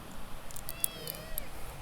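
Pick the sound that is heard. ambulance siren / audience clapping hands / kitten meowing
kitten meowing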